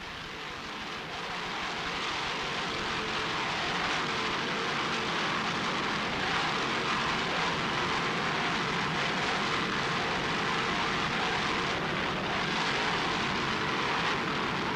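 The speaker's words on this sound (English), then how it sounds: "Powered by two 900 horsepower Mercury inboards." An offshore racing powerboat driven by two 900 horsepower Mercury inboard engines roars continuously as a broad, steady, distant drone with rushing water and wind, no voices heard.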